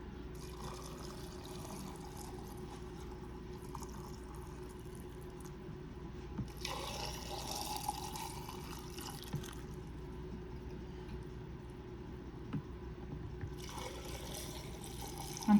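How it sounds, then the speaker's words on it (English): Tap water pours steadily from a pitcher into glass jars for homemade cranberry juice, a soft continuous splashing stream, faint and close, with brief louder surges as the flow changes. "And we're going to fill the jars up and leave about an inch head space"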